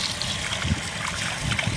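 Old rice being rinsed and rubbed by hand in a pot of water, a steady wet swishing with soft gurgles and small splashes, close and alone without talk.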